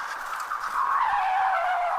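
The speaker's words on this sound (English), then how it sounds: "a very fast car sped in his direction" A fast car skidding toward someone as an audiobook sound effect, a single sustained tire screech that slides downward in pitch over two seconds, loud and alone.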